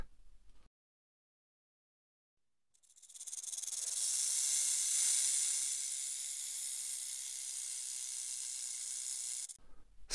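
A snake gives a steady, breathy hiss that swells in after a moment of silence and holds for several seconds, fairly soft and close.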